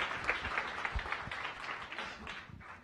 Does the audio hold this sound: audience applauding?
yes